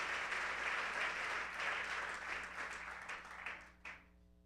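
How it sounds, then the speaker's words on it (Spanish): A church congregation applauding together during a service, a dense, fairly distant round of clapping that holds steady and then thins out and fades after a few seconds. "Vamos a darle un aplauso al Señor."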